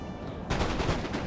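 An opening musket salvo in Napoleon Total War: after a short quiet moment, a line of muskets fires in a sudden ragged crackle of overlapping shots that then rattles on for under a second.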